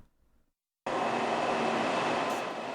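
A KTX high-speed train at Ulsan station after midnight: after a brief quiet moment, a loud, steady rushing roar starts abruptly and holds for the rest of the clip, with no voices.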